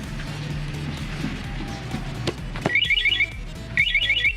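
An SGP motorcycle alarm on a Raider 150 Fi sounds bursts of high, rapid warning chirps after arming, two short clusters following some clunks and handling noise, loud and close.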